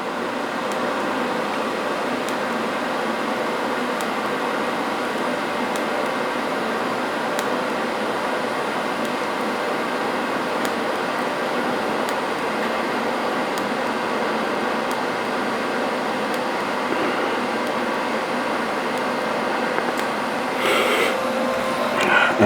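A TIG welding arc runs as the filler rod is dabbed into the puddle, giving a steady, even hiss and buzz that holds unbroken throughout, with a faint crackle near the end.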